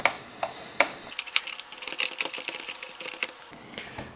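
Small screws being worked loose from an office phone casing, faint close clicks and light metallic ticks scattered irregularly over a few seconds.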